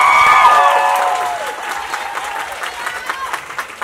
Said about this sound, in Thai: ขอเสียงปรบมือดังๆอีกครั้งนึงให้กับผู้เข้าประกวดของเราทั้ง31คนครับ